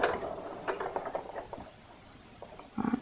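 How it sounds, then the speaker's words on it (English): A sewing machine with a double needle stitching a gingerbread man softie, a close mechanical rattling patter that runs in short bursts and then falls away before picking up again. "do a few stitches, and then just back stitch that in there to secure"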